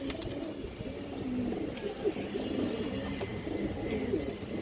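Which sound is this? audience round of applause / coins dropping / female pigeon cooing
female pigeon cooing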